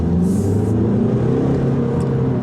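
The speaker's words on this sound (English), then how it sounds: "Let's go this way. Acceleration." A 2017 Audi Q2 Sport 2.0 TDI Quattro diesel with a 7-speed S tronic automatic pulls away under acceleration, its engine a steady, close, droning rumble heard from the cabin with no talk.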